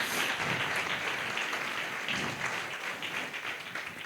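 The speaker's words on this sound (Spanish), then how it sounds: "Así que también pido un aplauso para ellos y para ellas." A crowd applauds steadily throughout, dense clapping at a constant level that fades only slightly toward the end.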